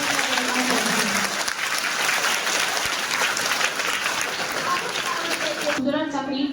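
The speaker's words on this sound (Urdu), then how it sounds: "ہر ایک طالب علم کو زوردار تالیوں سے حوصلہ افزائی کریں" An audience at a school Eid al-Adha ceremony claps loudly to encourage the students, a thick, continuous round of applause lasting nearly six seconds before it cuts off and a voice takes over.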